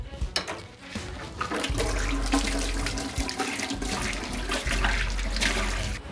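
Tap water runs hard and splashes into a sink while dishes are washed, a continuous close rush with faint knocks of utensils and no talk.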